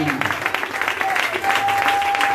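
Church congregation applauding and cheering loudly and steadily, a dense wash of hand clapping mixed with crowd voices that continues unbroken.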